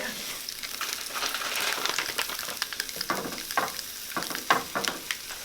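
Vegan chicken pieces sizzle steadily in a hot pan as they brown, a continuous close crackle with sharper pops and spatters scattered through it.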